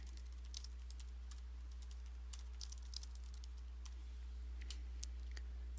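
Typing on a computer keyboard to enter a reviewer note, a quiet run of light irregular key clicks over a steady low electrical hum, with no speech.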